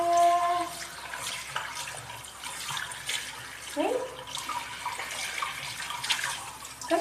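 Shower water runs steadily while a pet is bathed, a close, continuous hiss and splatter with brief changes in flow as a voice speaks over it.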